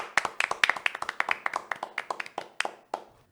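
An audience applauds a guest, Lucho Llosa, with brisk, sharp claps that thin out toward the end, close and without talk.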